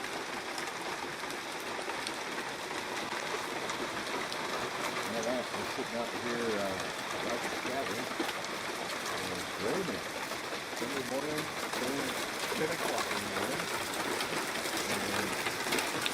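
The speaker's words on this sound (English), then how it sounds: "Sunday morning rain shower" Heavy rain pours down steadily in the Rio Chama Canyon wilderness, a dense continuous hiss of drops hitting surfaces close by, with no break for the whole stretch.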